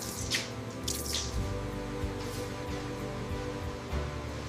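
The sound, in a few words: cow being rinsed down with water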